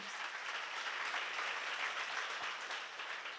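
Steady, dense applause from an audience at a church seminar lecture, filling the room evenly from start to finish with no voices over it.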